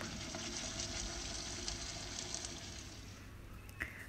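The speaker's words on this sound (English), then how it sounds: "once the onions start to fry, turn golden brown, you need to add this masala paste to it and nicely stir" Masala paste frying with onions in a pan for drumstick egg curry, a steady dense sizzle close up throughout, with faint stirring scrapes and a small clink near the end.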